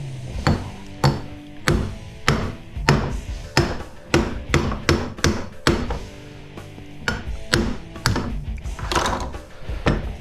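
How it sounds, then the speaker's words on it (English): A regular hammer strikes metal repeatedly, pounding apart a welded part from a microwave oven. The blows come loud and close in an uneven but steady rhythm, with sharp metallic clanks and ringing. "I can probably just use a regular hammer"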